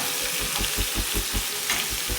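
Soaked chana dal and coconut frying in a pan, with a steady sizzle broken by regular scraping stirs of the spatula, close and fairly loud, with no talking.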